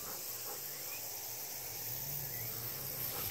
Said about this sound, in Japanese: 少量バッタのオス、チキチキバッタ、 チキチキチキって音します。